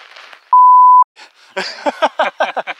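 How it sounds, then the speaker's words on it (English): A single loud steady censor beep lasting about half a second covers a swear word, with outdoor talk on a remote mountain hike before and after it. "Excuse my language, that's going to be beeped out."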